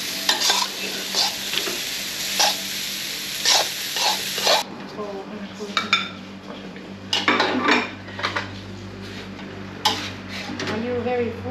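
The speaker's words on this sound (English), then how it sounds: "You have to hold the handle when you stir it. It moves better." A spoon stirs in a pot during a Thai cooking class, with repeated scraping and clinking strokes in uneven bursts over a light sizzle in the pan.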